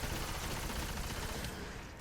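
Necrochasm auto rifle firing in the video game Destiny, a dense continuous rattle of rapid shots over two seconds, loud and close, no speech.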